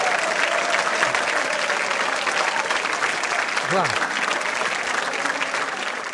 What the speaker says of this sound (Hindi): तालियां बजाइए अपने लिए एक बार जोरदार तरीके से